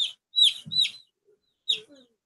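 Chickens give a few short, high, faint clucks and chirps in quick bursts with gaps of quiet between, close by and without talk.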